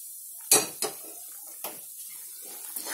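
A spoon stirring a thick Mysore pak mixture of ghee and cardamom powder in a pan, several sharp metallic scrapes and clinks against the pan, close and distinct with quiet gaps between them.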